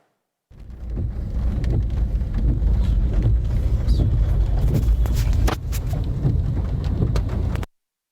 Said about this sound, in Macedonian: Пороен дожд во Скопје